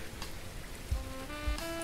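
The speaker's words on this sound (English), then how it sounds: "you can see that the rain is dripping down it" Rain falls in the SunnySide video game as a faint, steady hiss of drops, with soft sustained tonal notes layered over the patter and no voices.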